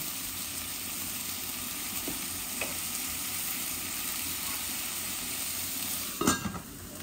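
Potatoes and fish fry together in a pan, a steady faint sizzle under a constant background hum, broken by a couple of soft knocks and a brief clatter near the end.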